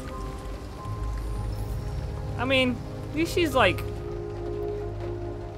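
Steady rain falls in the video game Detroit: Become Human, a soft, continuous hiss in the background while someone talks over it.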